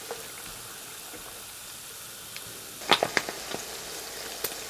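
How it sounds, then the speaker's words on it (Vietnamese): Fish frying in hot oil in a pan, a soft steady sizzle with a few sharp crackles and spits clustered in the second half, close and moderately quiet. "Mình chiên cho cá vàng như thế này là được nha các bạn."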